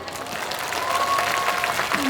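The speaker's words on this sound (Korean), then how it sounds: "큰 박수 부탁드립니다." A crowd at a summer night outdoor concert in Hwaseong applauds, a continuous wash of clapping mixed with cheering, with a faint tonal hum running beneath it.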